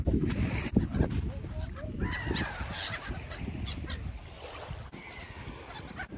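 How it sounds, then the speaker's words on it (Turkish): Waterside birds on the Sakarya shore call repeatedly in honking, squawking bursts over a background of wind and distant murmur, several cries close by. "Ekmek yiyen etçil martılar."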